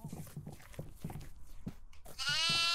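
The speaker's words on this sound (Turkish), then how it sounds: "Keçi sesi var lan." A goat in the horror video game Devour gives a loud, wavering bleat near the end, following several rhythmic thumping footsteps and scuffs.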